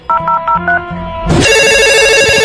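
A telephone rings in short repeated trills, then a loud, sustained electronic ring takes over, bright and close with no talking.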